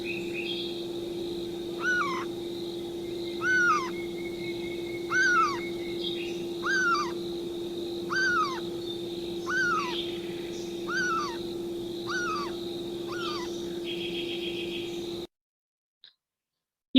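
A cuckoo's nocturnal flight call, a repeated downward-sweeping call, about eight times at steady intervals, over a constant hum and background hiss, then silence.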